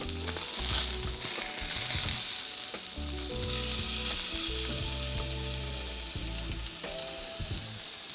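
Crispy salmon fillets searing in a hot pan after being flipped, a loud continuous sizzle and crackle with some low clunking and tonal hum underneath, close up and without speech.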